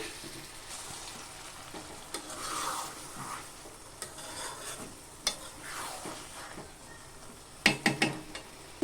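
Eggs stirred with spices in a frying pan for a Bengali egg bhuna, soft sizzling under scattered stirring scrapes and light utensil clinks, with a burst of sharper metal taps near the end.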